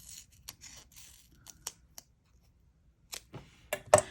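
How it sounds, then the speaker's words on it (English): Scissors snip through paper for a papercraft ink project in a quiet room, giving a string of short, crisp, close cuts in irregular bursts with brief pauses between them. "Cut a little bit more here."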